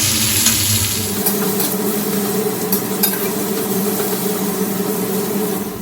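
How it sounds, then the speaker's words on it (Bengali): Sliced bitter gourd fries in a pan in a home kitchen, a steady close sizzle with occasional stirring scrapes and light utensil clinks, no voices. "সেখানে চলছে উচ্ছে ভাজা"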